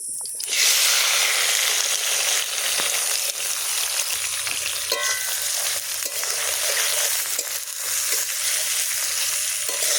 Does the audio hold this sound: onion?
yes